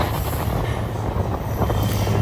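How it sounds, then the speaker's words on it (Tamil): Okha–Ernakulam express train No. 16337, hauled by a Freedom-livery engine, runs at high speed, a continuous heavy rumble and rattle heard from on board with no talking. "ட்ரெயின் பார்த்திங்கன்னா செம்ம ஸ்பீடில் போய்ட்டுருக்கு"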